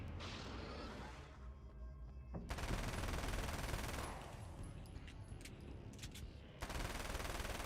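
Rapid submachine gun bursts from a video game shooter, Alan Wake's American Nightmare, crackling loud and dense in two stretches with a short lull between, no talking.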